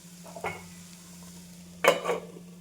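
Drumstick flower vegetable cooks in oil in a pan, quiet except for a low hum, a soft clink early on and a sharper metallic clatter of utensil or lid against the pan near the end.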